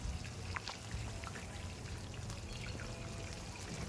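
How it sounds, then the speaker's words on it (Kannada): Mushroom kebabs deep frying in hot oil, a steady dense sizzle and bubbling hiss with faint crackles, continuous and close, no talking. "ಎಣ್ಣೆಗೆ ಹಾಕ್ತಿದ್ದಂಗೆ ಕಬಾಬು ಸ್ವಲ್ಪ ಚಿಕ್ಕದಾಗುತ್ತಾ ಹೋಗುತ್ತೆ ಇದನ್ನು ಗೋಲ್ಡನ್ ಬ್ರೌನ್ ಬರೋ ತನಕ ಫ್ರೈ ಮಾಡ್ಕೋಬೇಕು ನೋಡಿ ಈ ರೀತಿ ಚೆನ್ನಾಗಿ ಕುದೀತಾ ಇದೆ"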